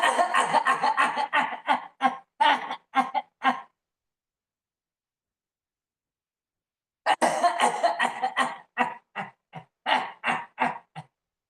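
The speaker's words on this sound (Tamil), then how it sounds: "இருமல்" Repeated coughing during a breathing exercise, two runs of short, sharp, close bursts separated by a few seconds of silence.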